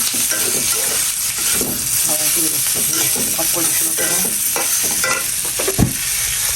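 Onions fry in a pan with a loud, continuous sizzle, while a spoon scrapes and stirs repeatedly throughout, ending with a sharp knock against the pan.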